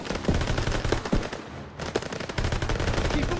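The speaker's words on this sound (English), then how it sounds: "MGs, open fire!" Machine guns fire in sustained rapid bursts during a World War II battle in Call of Duty: WWII, the loud chatter of automatic gunfire filling the scene with a short lull midway before it resumes.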